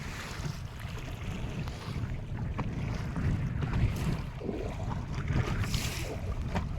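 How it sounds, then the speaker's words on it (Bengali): Wind buffets the microphone in a storm on the Garal river over steady rumbling water and strong waves, with creaking, knocking sounds from a small rocking boat, continuous and fairly loud. "কি নৌকা কিন্তু প্রচণ্ড দোলা খাচ্ছে ছোট নৌকা তো"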